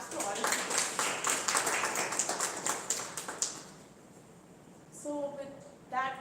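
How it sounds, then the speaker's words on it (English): A meeting audience at a Toastmasters club claps together in a dense burst of applause lasting a few seconds, then tapers off into quiet, with a brief voice sounding near the end. "So claps to all of you."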